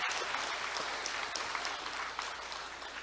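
An audience at a Won Buddhist anniversary ceremony gives sustained applause, a continuous dense patter of many hands that stays even and fills the whole stretch.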